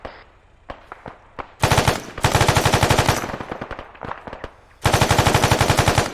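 Mounted machine gun fires in long, loud automatic bursts during a close-quarters military field training exercise, with a few isolated single shots between the sustained volleys.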